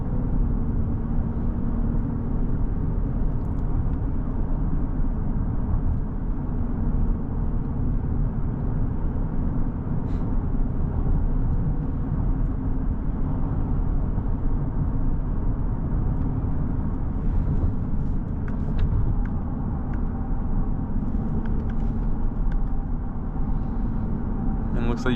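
A 2024 Volkswagen Atlas Peak Edition SEL's engine carries a steady, deep low drone throughout while driving, with road and cabin hum holding at an even level and no talk over it.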